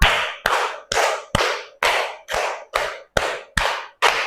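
A classroom group claps hands together during a counting ice-breaking game, ten sharp, evenly spaced unison claps each with a short ringing room tail, loud and close with no talk.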